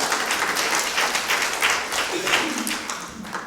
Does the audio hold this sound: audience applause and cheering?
yes